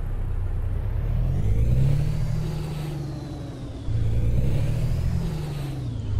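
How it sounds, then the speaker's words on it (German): A Peterbilt 387 truck engine in Euro Truck Simulator drones steadily and loudly at low pitch, its rumble swelling and easing as the rig accelerates, with a faint whine above it. "Ob der Motor sich tatsächlich so anhören muss, lassen wir jetzt mal dahingestellt."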